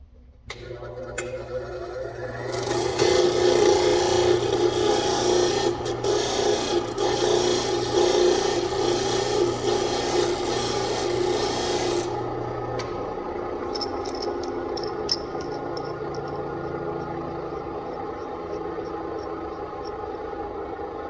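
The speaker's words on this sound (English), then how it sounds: "I'm going to sand the end of this" A steel U-bolt's threaded end sanded down, giving a loud, continuous abrasive rasp that runs for about ten seconds before easing to a softer grinding hum with faint metallic ticks.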